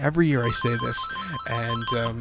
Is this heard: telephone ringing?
yes